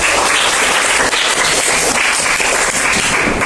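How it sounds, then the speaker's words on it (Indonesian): A classroom audience claps loudly and steadily for several seconds, a dense unbroken wash of applause close to the listener. "silakan dulu tepuk tangan untuk kita"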